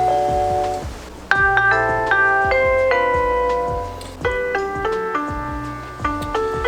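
A Google Nest Doorbell (2nd generation) plays its Nest Classic chime: a bright, ringing electronic melody of layered bell-like tones in several short phrases, loud and close, with no talking.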